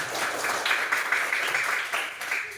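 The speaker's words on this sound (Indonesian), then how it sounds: "Tepuk tangan." Students in a classroom lesson clap together, a brief burst of uneven clapping with some rhythmic group claps and faint voices mixed in, moderately loud and close.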